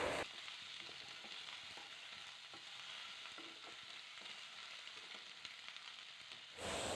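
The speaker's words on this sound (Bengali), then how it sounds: "এটা দিয়ে একটু নেড়ে চেড়ে ভাজা ভাজা করে নেব যতটুকু পারা যায়" Chopped vegetables stir-frying in a pan as the base for a savory oats dish, a continuous hiss of sizzling oil with soft scraping stirs, steady throughout and cut off sharply near the end.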